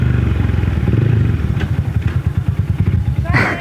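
A motorcycle engine idles after an ignition timing adjustment, with a steady low chugging pulse, close and fairly loud, and a brief rattle near the end.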